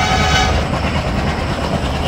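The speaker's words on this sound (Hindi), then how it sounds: "हमारी गजराज WDM 3D काफ़ी बेहतरीन तरीके से हमारे जनशताब्दी एक्सप्रेस को आगे बढ़ा रही है और वो भी काफ़ी तेज़ी से" A WDM 3D diesel locomotive pulls the Jan Shatabdi Express in a train simulator game, with a loud, steady engine drone and rolling wheel rumble that carries on without a break.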